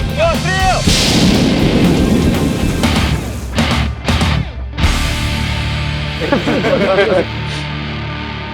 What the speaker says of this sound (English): Aimed, shelled, loaded, cartridge case, loaded. Everyone runs away. Pull the cord.